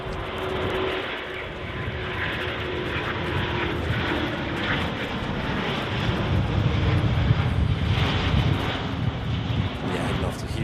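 An Emirates aircraft's engines roar steadily at Manchester Airport on a windy day, a loud continuous rumble and whine sustained throughout, with a voice talking faintly beneath it.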